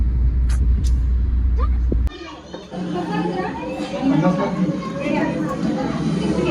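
Road traffic during a Ganapati festival day: a loud low vehicle rumble that cuts off abruptly, followed by a steady hum of cars and buses, with people talking over it.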